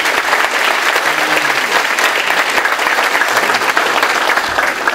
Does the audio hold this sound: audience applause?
yes